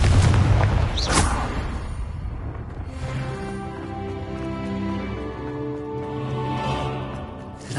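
Spell blasts from a Harry Potter video game: an opening burst and a sharp boom about a second in, then rumbling impacts fading under a sustained musical score inside a cave.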